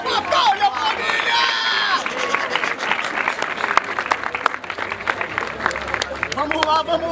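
A rap battle crowd at Batalha da Aldeia in Barueri cheers and applauds loudly, dense clapping and shouts filling the space continuously from start to finish, with voices calling out over the noise.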